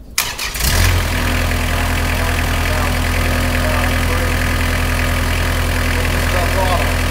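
A Blastcrete Mason Mate engine cranks briefly, catches within the first second, then settles into a loud, steady mechanical idle with a constant low hum that continues to the end.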